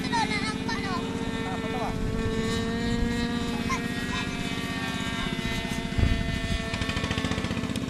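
A propeller aircraft drones steadily through the whole stretch, coming in to land with a dense, rumbling engine tone, while voices talk close by.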